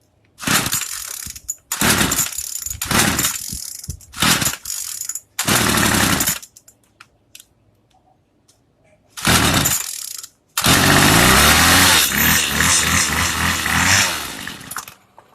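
A Craftsman weed eater engine with a starting problem gives repeated short, ragged bursts as it is pulled and briefly catches, sputtering out between attempts, then runs roughly for several seconds before cutting off.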